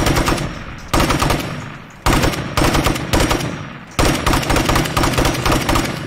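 Full-auto rifle fire in State of Decay 2: loud, close bursts of rapid shots repeat back to back, with brief pauses between them, and no talking.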